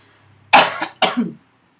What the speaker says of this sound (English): that was a wet cough, not a dry cough